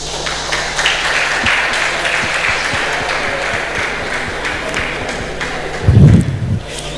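An audience at a regulatory conference in Ghana claps continuously as a speaker is welcomed, a steady wash of applause with a brief swell of low thumps near the end.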